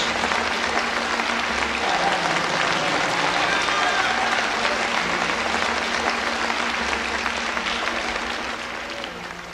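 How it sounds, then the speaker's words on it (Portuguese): A church congregation applauding during a ministry class, a loud, sustained wash of clapping from a large crowd that fades slightly at the end, with a voice faintly mixed in. "Vamos, demos a Ele palmas."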